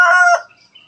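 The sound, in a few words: rooster crowing on a chicken farm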